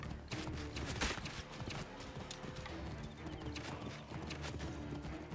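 Horse hooves clip-clop steadily in the video game Assassin's Creed Origins, a fast galloping rhythm mixed with game background noise, fairly quiet overall.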